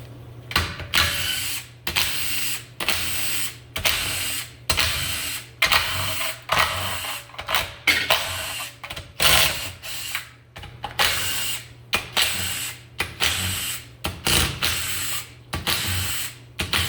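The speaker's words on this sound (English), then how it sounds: "Next, we're going to take off the cam bolts." A hand ratchet backs out cam bolts on a 4L60E transmission during a teardown. It clicks in quick, steady bursts that repeat again and again with short pauses between strokes, close up and without talk.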